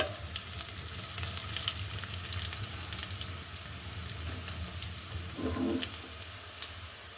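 Onions frying in a pan in a home kitchen, a soft continuous sizzle with a faint rustle of stirring partway through, heard alone without speech.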